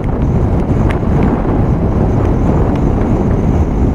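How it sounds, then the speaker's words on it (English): A strong gale blasts across a motorcycle helmet visor while riding a Royal Alloy scooter, making a loud, constant roaring buffet of wind noise with no letup. "You can probably hear how hard the wind is coming across the front of my visor."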